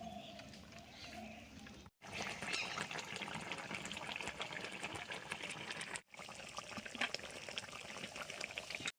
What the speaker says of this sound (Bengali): সুন্দর করে ফুটিয়ে নেব।